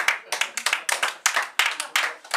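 Audience at a theatre company performance clapping for the jury, a close burst of sharp, uneven handclaps from a small group.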